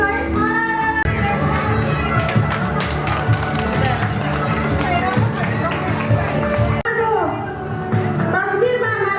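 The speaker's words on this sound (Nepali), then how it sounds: "सबै तालीको लागि भए ताली बजाइराख्नु है।" An audience claps steadily in rhythm through most of the stretch at a farmers' cooperative general assembly, with crowd murmur and a voice over a loudspeaker on top. The clapping thins out near the end.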